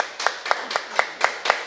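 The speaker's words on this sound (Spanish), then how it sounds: "Démosle un fuerte aplauso al Señor Jesús" Churchgoers standing at a Spanish-language discipleship service clap in unison, six crisp, evenly spaced beats close and fairly loud, with little else in the background.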